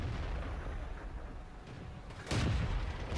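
Heavy tank cannon shot from the T1 Heavy in World of Tanks, a single deep boom near the end after a low rumbling engine drone, fairly quiet overall.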